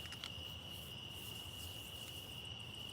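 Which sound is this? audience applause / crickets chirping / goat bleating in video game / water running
crickets chirping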